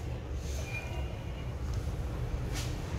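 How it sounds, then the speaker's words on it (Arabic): A low, steady rumble of an Amsterdam metro train in motion, fairly quiet, with faint squeals and hiss drifting over the drone. "هذا المترو طويل"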